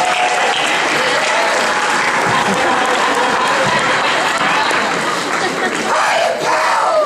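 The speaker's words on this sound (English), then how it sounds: "why don't you give a big round of applause and help me welcome out Mr." A large indoor event crowd claps and cheers loudly and continuously to welcome Mickey Mouse on stage, a dense, steady wash of applause with whoops throughout.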